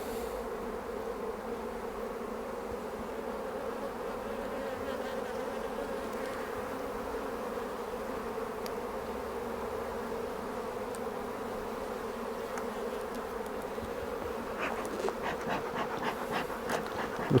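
Dense, steady buzzing of many honey bees swarming around an open hive frame during an inspection, close and continuous, with a few brief clicks and knocks near the end.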